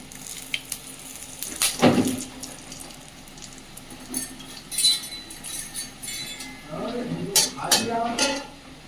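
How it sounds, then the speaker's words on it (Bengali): Whole cardamom, cinnamon and bay leaves hit hot oil in a wok for a prawn dish, giving a steady crackling sizzle with a few utensil clinks, and a voice talks over the last seconds. "তেলটা গরম হয়ে গেছে কড়াই দিয়ে দেব গোটা এলাচ দারচিনি তেজপাতা"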